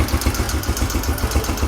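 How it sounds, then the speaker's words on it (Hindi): A Yamaha YBR four-stroke motorcycle idles with a steady, rhythmic air-intake pulsation, a close, even chugging throb with light mechanical clatter and no one talking. "ये एक पल्सेशन इसमें आवाज़ आ रही है पल्स की"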